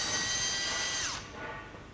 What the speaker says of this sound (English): Okay, start the drill.